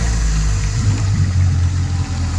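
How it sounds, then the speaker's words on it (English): A small boat's outboard motor runs at a steady low idle after starting, a close, loud, rumbling putter with slight wavering in pitch and no voices. "All right, let's go ahead and start our motor."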